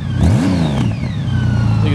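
A 2008 Honda Goldwing 1800 motorcycle with slightly louder-than-stock exhaust revs up and settles, a close, loud, continuous engine sound with a quick rise and fall in pitch.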